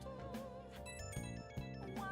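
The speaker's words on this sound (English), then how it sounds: "And our phone is going again." A phone rings in Persona 5 Royal, a soft repeating ringtone melody of bright tones over the game's background music, fairly quiet and with no talking.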